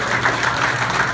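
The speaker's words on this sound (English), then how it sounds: "So give yourself a big round of applause." Campaign supporters applaud at a rally in Houston, a steady, dense wash of clapping held at even loudness for the whole short stretch, with no voices rising above it.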